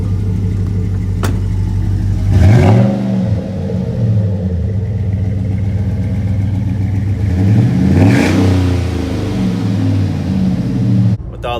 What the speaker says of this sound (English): Rev that engine up.